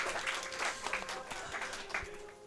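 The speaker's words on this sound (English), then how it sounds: "Please give them another round of applause." A crowd at a live speedrun event gives the runners another round of applause. The clapping is brief and fairly soft, with a faint steady hum beneath it.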